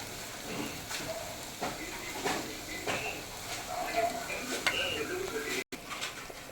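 Vegetables frying in a pan with salt for a vegetable biryani, a soft steady sizzle under occasional scraping and stirring clinks of a spoon against the pan, with a voice talking intermittently over it.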